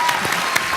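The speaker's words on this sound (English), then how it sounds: "all these guys need a round of applause" A packed Comic-Con panel audience claps, a brief dense burst of applause filling the room.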